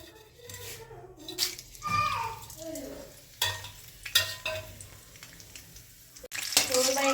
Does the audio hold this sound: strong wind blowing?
no